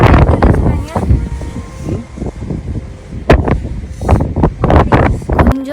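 Heavy wind on the exposed summit of Roseberry Topping buffets the microphone, loud and close, in continuous gusty blasts that surge and rumble without a break.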